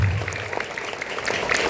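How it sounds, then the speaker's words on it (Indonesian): Brief burst of clapping from pupils and teachers at a school flag ceremony assembly at SDN Jaticempaka IV, Indonesia, dense and fairly close throughout. "tepuk tangan semua"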